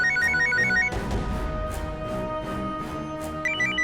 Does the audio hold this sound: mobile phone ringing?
yes